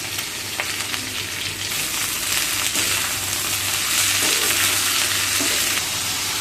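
Ridge gourd peels frying with garlic and salt in a pan give a steady, close sizzle with occasional stirring scrapes, filling the whole stretch without any talk.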